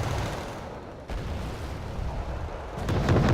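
Gunfire and artillery from the video game Wargame Red Dragon form a dense, continuous rumble of shots and distant blasts, growing louder toward the end.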